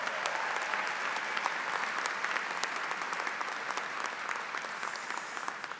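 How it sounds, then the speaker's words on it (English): Steady applause from a commencement ceremony audience for a student soloist, a dense, even roar of many hands clapping that holds at a fairly constant level throughout. "Give her a round of applause."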